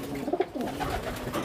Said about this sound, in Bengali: এখানে পাঁচ পিস কবুতরের মধ্যে ছেকার্ড যে দুটা কবুতর